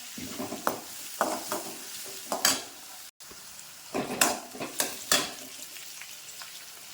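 Onion and curry leaves sauté in a pan, giving a soft steady sizzle broken by repeated scraping stirs of a utensil against the pan, fairly quiet with no talking.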